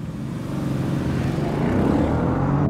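A Mercedes E63 wagon launches from 0 to 60 in first gear, its engine roar swelling steadily louder from inside the cabin over a few seconds, with no talking.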